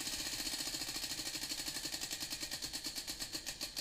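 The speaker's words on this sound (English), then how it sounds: "We're going to spin a wheel" Prize wheel spinning at a game show livestream, a rapid steady train of sharp plastic clicks that gradually slow and spread apart as the wheel loses speed, fairly quiet and close, with no talking.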